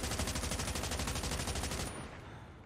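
Automatic weapon fire in the mobile shooter game Call of Duty Mobile: a rapid, evenly spaced burst of about twenty shots that stops abruptly, leaving a short fading tail, with no talking.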